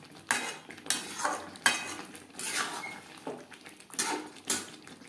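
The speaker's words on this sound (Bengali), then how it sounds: "হাই ফ্লেমে 3-4 মিনিট নাড়াচাড়া করে নেব।" A utensil scrapes and clanks through fried potatoes in chicken curry cooking on a high gas flame, about eight rhythmic stirring strokes, close but fairly quiet, with no one speaking.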